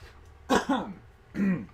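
Two hoarse coughs close to the mic, separated by a short pause, with no talking.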